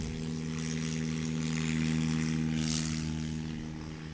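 A Piper Cherokee light propeller airplane takes off at a STOL competition, its engine droning steadily and swelling as it climbs away, heard from nearby without talk.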